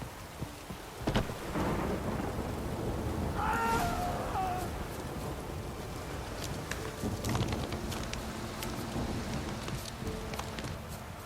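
Steady rain patters continuously in The Witcher 3 video game while deep thunder rumbles and cracks roll through, with a brief higher cry partway through.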